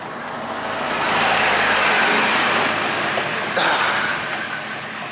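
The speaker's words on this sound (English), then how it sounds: "Typical, you start filming and a car wants to come past. Oh, and a heavy lorry." A car followed by a heavy lorry passing on a country road in the Lake District, a broad roar that swells, holds close and loud, then fades away, with a brief tonal whine as the lorry goes by.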